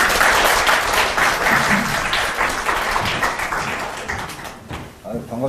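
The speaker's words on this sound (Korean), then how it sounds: "박수로 좀 환영해 주십시오." Loud, dense applause from an audience welcoming a politician at a Daejeon mayoral campaign gathering, sustained clapping that thins and fades near the end, with some thumps and a voice beginning over it.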